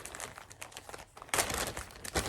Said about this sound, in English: It's just another big plastic bag.